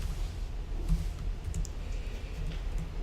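Computer keyboard typing during a JavaScript coding session, a steady patter of soft key clicks with low background hum, no talking.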